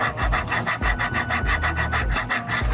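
Cheap plastic interior trim in a Mercedes-AMG E63 S being handled, giving a steady rhythmic scraping and rubbing that repeats quickly and closely for nearly three seconds, with no talking.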